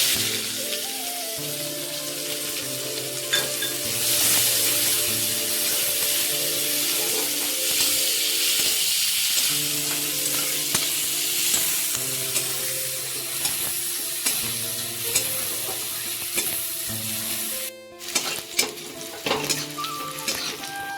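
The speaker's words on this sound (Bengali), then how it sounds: "পেঁয়াজ লাল লাল করে ভাজা হয়ে গেছে" Chopped onions fry in oil seasoned with cumin, dried red chilli and five-spice tempering, a steady close sizzle with stirring scrapes and clinks throughout.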